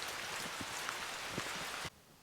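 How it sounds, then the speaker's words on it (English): Heavy rain pouring down on a rainy day in Kameoka, Japan, a dense steady hiss of falling drops that cuts off abruptly near the end. "the rain is getting a little intense, and we've even got a bit of thunder"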